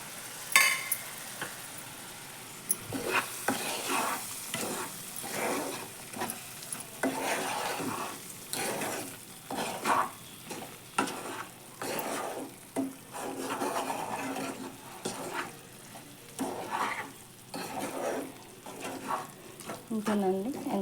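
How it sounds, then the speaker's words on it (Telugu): Chicken pickle is stirred with lemon juice in a pan, a spoon scraping and turning in repeated uneven strokes over a soft sizzle, close and moderately loud throughout. "ఇప్పుడు ఈ నిమ్మరసం అంతా కలిసే విధంగా మనం మిక్స్ చేసుకోవాలి."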